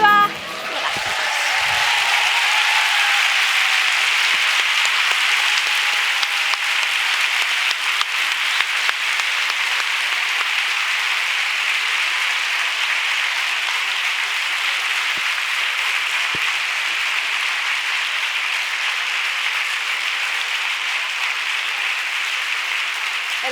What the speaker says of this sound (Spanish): El aplauso es para vosotras